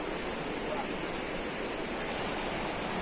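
A busy riverside waterfall on the Lae Kombih roars as a dense, unbroken rush of water, filling the whole short stretch with steady broadband noise.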